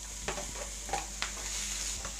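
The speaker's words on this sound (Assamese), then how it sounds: "পিঁয়াজখিনি মই এনেদৰে মিডিয়াম ফ্লেমত প্ৰায় 1 মিনিটমান ভাজি ল'লোঁ" Onions, with tomatoes, frying in a pan on a medium flame while making aloo soyabean paratha: a faint steady sizzle broken by several scraping stirs of a spatula, no voices.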